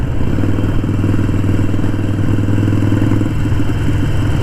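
Harley-Davidson Sportster 883 Iron motorcycle on the move: a loud, steady low engine drone with a throbbing mid-range rumble and light mechanical clatter, continuous throughout, no talk.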